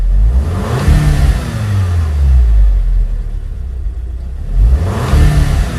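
Mk5 VW Golf GTI engine with a misfire on cylinder three, revved twice in quick bursts that climb and fall back to a rough idle, loud and close with no talk.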